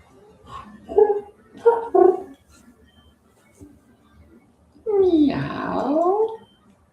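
Cat meowing and yowling: two short rising meows early on, then after a pause one long drawn-out caterwaul, loud and close with nothing else over it.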